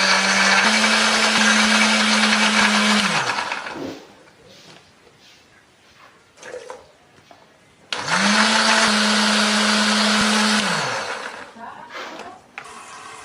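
A kitchen blender grinding roasted candlenut and coriander with shallots, garlic and a little water into spice paste, two loud whirring bursts of a few seconds each separated by quieter pauses with faint handling noises.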